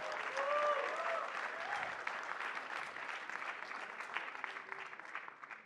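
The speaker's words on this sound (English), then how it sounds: "Let's just welcome them once again with huge round of applause." An audience at a leadership conference breaks into sustained applause, a dense even patter of many hands that holds steady and slowly tapers, heard from a moderate distance with faint tonal sounds underneath.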